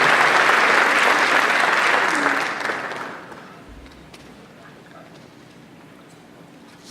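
Crowd at the Aurora city inauguration applauds the 2nd Ward alderman, a full burst of clapping for about three seconds that fades away into quiet room tone, with a faint click at the end.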